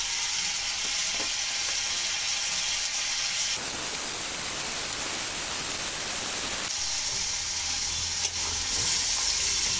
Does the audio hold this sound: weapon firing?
no